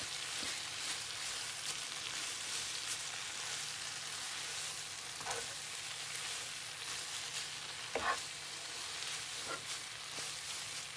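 Steady close sizzle of a buttery nettle soup base frying in a pan, a continuous crackling hiss with a few soft scraping stirs of a utensil against the pan breaking through.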